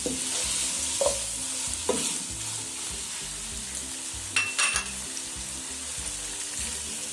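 Vegetable and chicken samosa filling with chili sauce and soy sauce stir-fries in a pan, a constant close sizzle broken by scraping, clattering strokes of a spoon.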